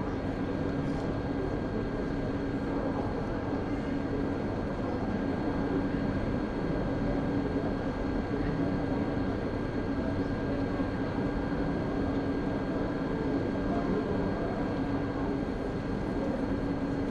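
Train in the video game Train Sim World 3, a steady, continuous low rumble with a sustained drone running unbroken and fairly loud, with no voices over it.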